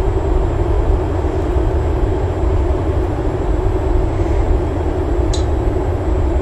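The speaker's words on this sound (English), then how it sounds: "It's the train from Glasgow." A steady, heavy rumble of a passing train in the flight simulator X-Plane 11, in Scotland, constant and fairly loud throughout, with no voices.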